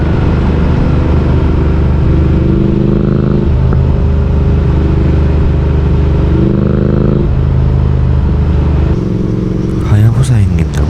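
Motorcycles, Hayabusas among them, ride along a coastal road. A steady engine drone shifts in pitch, with a louder pass near the end, while someone talks over it.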